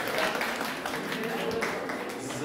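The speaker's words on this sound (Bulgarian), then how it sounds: "Чуха се аплодисменти" A theatre audience at the Dragomir Asenov Drama Theatre in Montana applauds, a faint, dense wash of clapping hands that holds steady with no breaks, heard from a distance.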